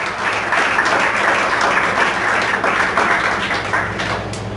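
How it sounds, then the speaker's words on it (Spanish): Church congregation applauding during a sermon on the resurrection, steady dense clapping that carries on loud and close for several seconds with no talk over it. "Da una ofrenda de palmas al Señor,"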